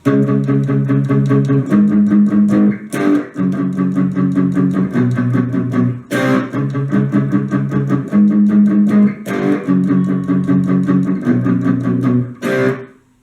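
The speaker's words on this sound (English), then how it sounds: "but now we get to what the rhythm guitar is playing, and that should sound like this." Heavily distorted electric rhythm guitar chugging a repeating chord pattern, loud and steady with short breaks between phrases.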